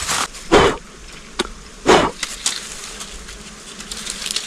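Bees swarm around a nest tucked in a bamboo clump, with a steady near buzzing and several louder bursts as insects fly close past.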